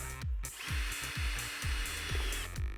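A power drill bores holes into a recycled planter for a hanging basket, a faint steady whir accompanied by repeated low thumps and knocks from handling the workpiece.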